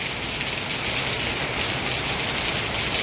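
Heavy monsoon rain pours steadily in Bhiwandi, a dense, unbroken hiss of drops drumming on surfaces that stays loud and even throughout, with no voices.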